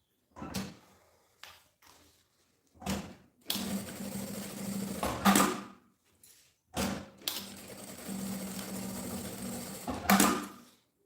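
An electric sewing machine stitches a seam on a handmade bag in several separate bursts, each a steady whirring run of a few seconds with short pauses and handling noises between them, close and fairly loud.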